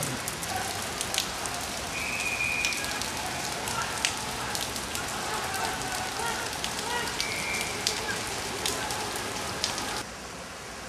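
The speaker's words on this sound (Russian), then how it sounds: "Целый день идет дождь." Steady rain falls outdoors, a dense, continuous hiss of drops spattering on surfaces, with occasional faint distant sounds underneath and no nearby talk.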